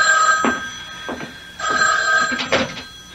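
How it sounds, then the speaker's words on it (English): An old-fashioned telephone bell rings in repeated short bursts, loud and close in an indoor radio drama scene, with no voices over it. "the phone rang."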